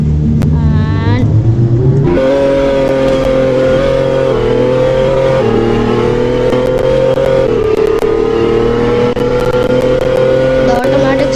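A car in the Driving Empire racing game revs hard, its loud, steady engine drone rising through gear shifts in clear stepped jumps and holding a high pitch throughout.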